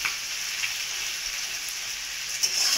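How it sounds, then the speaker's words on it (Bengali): Dried fish (sutki) fries in a pan, giving a soft, steady, fairly quiet sizzle and crackle with no voices. "এবার এটা একটু ভাজা ভাজা হবে"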